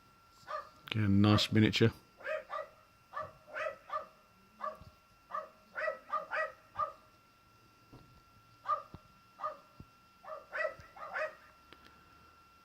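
Dogs next door bark repeatedly in short, sharp bursts at a distance, sounding on and off throughout with a brief stretch of nearby speech near the start.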